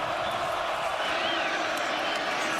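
Dense, steady roar of a huge football crowd of 50,000 to 60,000 cheering at Arrowhead Stadium during a Colorado versus Kansas college game, sustained and loud throughout with no break.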